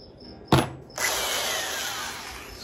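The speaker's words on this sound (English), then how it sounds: "Step drill, we're going to take that out to a" A step drill bores through the hood of a 2017 Dodge Charger Scat Pack: a sharp tap near the start, then a steady, loud, high-pitched whine of the power drill cutting metal continuously up close.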